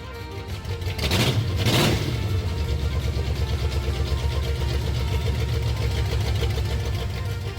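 A 1966 Ford Mustang engine starts with a brief loud roar, then settles into a steady, loud running idle with a constant low rumble.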